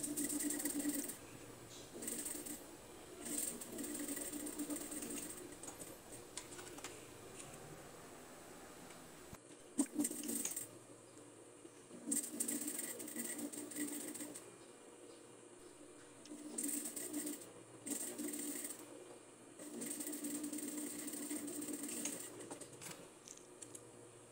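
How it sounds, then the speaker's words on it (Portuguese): Sewing machine topstitching over an overlock seam on a blouse sleeve, a close, steady mechanical whir running in long stretches with brief pauses between passes. "fiz um pesponto em cima da costura da overlock"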